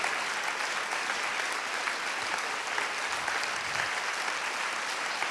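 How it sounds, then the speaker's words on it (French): A conference audience claps continuously, welcoming the speaker with dense and even applause filling the whole stretch without pause, fairly loud and steady. "on va accueillir sous vos applaudissements sans plus tarder notre conférencier Boris Cyrulnik."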